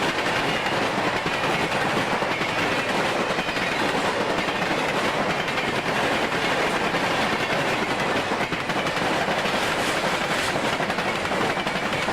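FEC northbound freight train 228, carload cars up front and empty auto racks behind, rolls past at Magnolia Siding with a steady, loud rumble and continuous clickety-clack of wheels over the rails.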